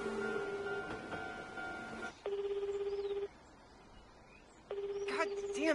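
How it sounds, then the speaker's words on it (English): A telephone gives a short tonal burst, then rings twice in long electronic trills separated by a pause, fairly loud and alone. "Just answer your phone."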